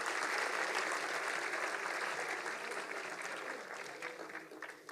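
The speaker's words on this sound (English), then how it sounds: "Please, can we have a huge round of applause for them?" Sustained audience applause from a seated crowd at an annual day celebration for honoured guests, dense and steady throughout, gradually easing toward the end with no talk over it.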